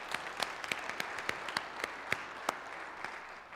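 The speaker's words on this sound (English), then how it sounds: "we can clap if you'd like" A small church congregation claps at a service, with scattered, uneven hand claps heard at a distance and fairly faint.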